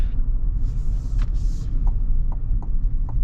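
A 2025 Chevy Tahoe LS full-size SUV cruising on the road, with a steady low rumble of engine and tire noise inside the cabin and a few faint light knocks.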